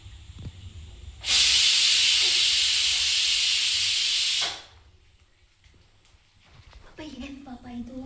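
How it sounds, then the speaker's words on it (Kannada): A pressure cooker whistle shrieks loudly with a sustained hiss of escaping steam for about three seconds while egg biryani cooks, then cuts off abruptly. A voice follows faintly. "ಇವಾಗ ಕುಕ್ಕರ್ ಲಿಡ್ನ ಕ್ಲೋಸ್ ಮಾಡಿ 2 ವಿಷಿಲ್ ಬರ್ಸಿ"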